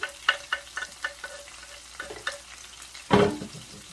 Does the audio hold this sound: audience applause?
no